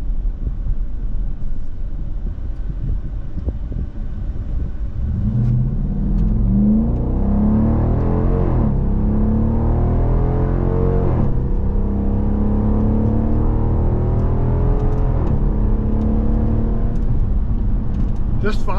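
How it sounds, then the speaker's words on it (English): A 2023 Dodge Durango R/T Premium AWD accelerating on side roads, the engine rising and falling in pitch as the 8-speed automatic shifts up several times, heard from inside the cabin as a steady, loud drone with a voice talking over it. "Now we're going to let the transmission shift for itself"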